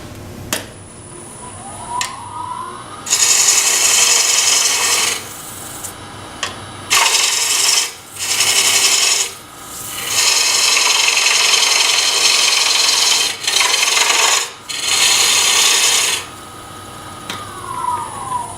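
Bowl gouge cutting into a spinning wooden bowl blank on a lathe, with loud sustained bursts of scraping, hissing cut that start and stop repeatedly between quieter stretches of the lathe's motor hum.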